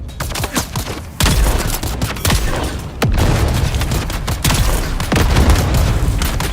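Grenade blast and rapid gunfire in the video game Dune Awakening: loud, dense bursts of shots and booms follow one another throughout, with heavy low thumps at several points.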